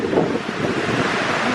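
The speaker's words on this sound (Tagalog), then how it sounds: "Ang lakas ng ulan at saka ang hangin." Strong wind and heavy rain outside during a stormy downpour, a steady rushing roar heard alone and without pause.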